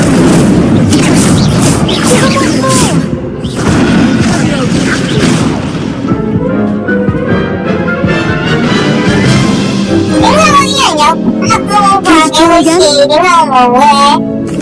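Incendio fire spell blast in the Hogwarts Legacy video game: loud booming bursts fill the first few seconds, then fade into softer game sounds and music with a voice over them.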